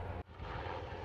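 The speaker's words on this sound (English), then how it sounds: "that sounds like an Apache" Apache military helicopter flying past near a home on the US border, a steady, fairly faint rotor and engine drone with a brief dip, then continuing.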